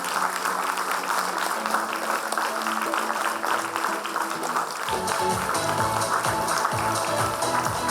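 An audience claps at a scholarship award ceremony in sustained, dense applause that swells fuller partway through, with some voices mixed in.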